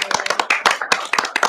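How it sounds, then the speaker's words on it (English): A small group clapping in a round of applause at a township board of supervisors meeting, sparse uneven claps close to the microphone, brief and without cheering. "I just want to give a round of applause."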